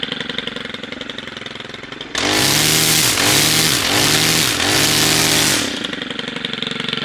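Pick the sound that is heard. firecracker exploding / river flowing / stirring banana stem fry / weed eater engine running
weed eater engine running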